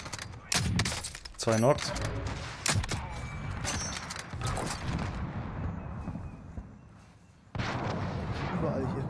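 Rapid gunfire rattles in Call of Duty: Warzone as the player is shot at from far across the map, with repeated sharp cracks and bursts, including a heavy volley near the end, while players talk over it.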